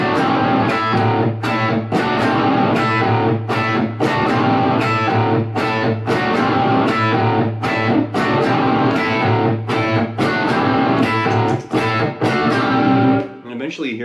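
Two distorted electric guitars play loud rock chords together, with steady rhythmic strums over about fourteen seconds before ending abruptly.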